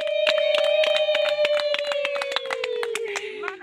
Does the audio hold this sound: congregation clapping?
yes